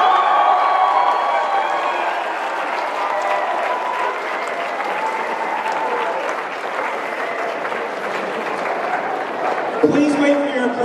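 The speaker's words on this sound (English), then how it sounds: "Please wait for your applause till we get through all five." Audience applause at a high school mountain biking award ceremony, a steady, dense wash of clapping from a crowd that continues throughout at even loudness.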